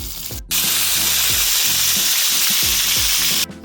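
Fish sizzling and frying in a pan, a loud continuous crackle and hiss with light stirring or scraping knocks underneath, starting abruptly and cutting off near the end.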